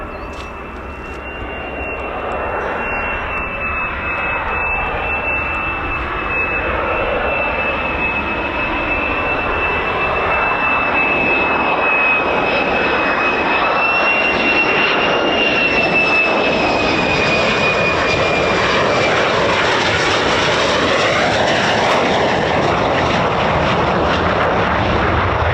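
A fighter jet, an F-15E Strike Eagle or F-35A of the 48th Fighter Wing, lands at RAF Lakenheath with a loud, sustained turbine roar and a rising whine that builds and stays powerful for over twenty seconds.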